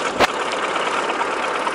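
A T-40 tractor engine runs steadily in snowy winter conditions, a continuous broadband rumble close by with a brief louder knock or clatter near the start.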